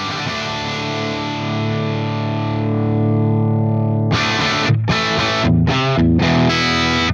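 An electric guitar runs through an STL Tonality amp plugin with overdriven gain. A sustained distorted chord rings out and decays, then short, tight palm-muted chugs follow in a choppy rhythm.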